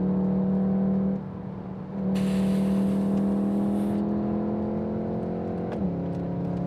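VW Golf R Estate on the Nurburgring, its engine droning steadily under load with a brief dip in revs, then sustained loud cabin noise and a pitch drop near the end as it slows.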